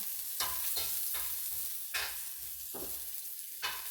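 Garlic sautéing in cooking oil for ginisang monggo, a faint hiss with several distinct spoon-stirring scrapes at irregular intervals, close by and without talk.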